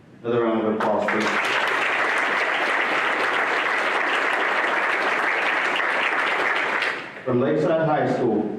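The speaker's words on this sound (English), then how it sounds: "Another round of applause, please." Loud, sustained applause from a school board meeting audience fills several seconds, with a person speaking briefly just before it starts and again as it ends.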